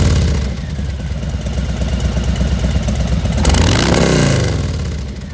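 A Harley-Davidson 2020 Low Rider S (FXLRS) with a 2-into-1 exhaust revs up loud and close, its deep, throaty engine note climbing steadily then surging in a strong throttle blip before easing back.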